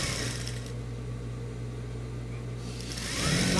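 A sewing machine motor hums steadily while stitching a rug made from fabric scraps, close and continuous with a low droning tone that shifts slightly near the end.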